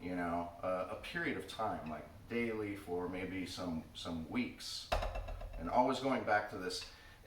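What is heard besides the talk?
No everyday noises stand out.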